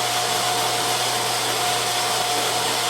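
Meat grinder running steadily as wild game meat is ground a second time, a loud continuous motor whine with a constant hum and no break.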